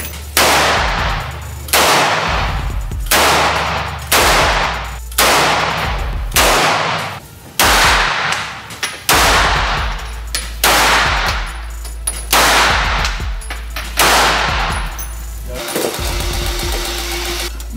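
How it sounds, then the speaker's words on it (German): Gunshots ring out at a 100-meter shooting range, about a dozen loud sharp reports spaced roughly every one to two seconds with a steady low hum between them. "100 Meter wird hier geschossen."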